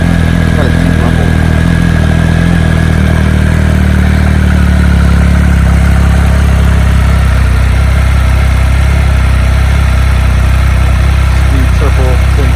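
Close, loud, steady idle of a 2019 Triumph Speed Triple 1050 RS motorcycle, a deep even rumble that holds throughout with a brief voice over it.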